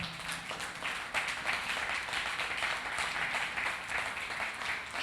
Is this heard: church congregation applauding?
yes